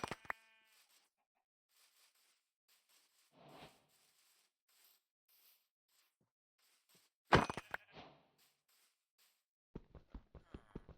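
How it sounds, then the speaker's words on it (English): Brown sheep bleating in a video game, several short separate calls with quiet gaps, alongside scattered clicks and brief bursts of other game sounds. "There's the brown sheep"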